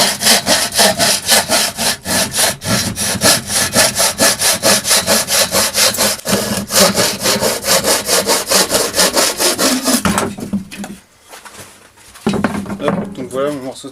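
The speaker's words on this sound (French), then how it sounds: "Donc pour ça je vais utiliser ma scie de charpente." Wood being cut by hand with a framing saw in a workshop, a fast rhythmic rasp of back-and-forth strokes, close and loud, pausing briefly before a few final strokes.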